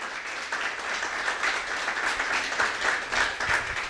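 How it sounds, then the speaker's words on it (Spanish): Warm, steady applause from a church congregation for a boy named Emerson, many hands clapping together at moderate distance with slight swells in intensity. "Un aplauso para Emerson"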